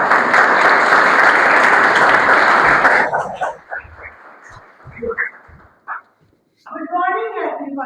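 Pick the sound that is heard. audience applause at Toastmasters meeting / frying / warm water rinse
audience applause at Toastmasters meeting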